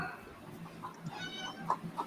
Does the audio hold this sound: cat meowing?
yes